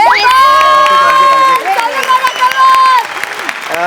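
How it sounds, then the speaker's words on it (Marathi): A loud studio audience at a Marathi comedy show claps and cheers, with shouts and whoops riding over the applause, which swells, dips briefly and picks up again. "एकदा जोरदार टाळ्या माझ्यासाठी झाल्या पाहिजेत"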